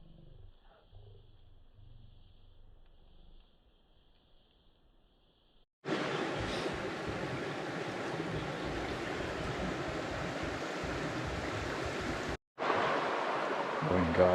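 Steady rushing water, loud and continuous, like a creek flowing close by, briefly cut off near the end, after a quiet stretch with faint sounds.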